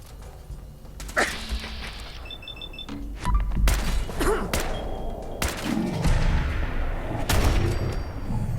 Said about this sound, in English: is the gunfire too loud?